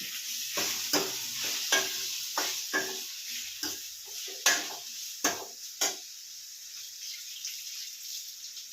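Grated coconut frying in a pan for a vegetable masala sambar, a soft sizzle with a series of distinct scraping stir strokes that fade to a quieter hiss, close by with no talking.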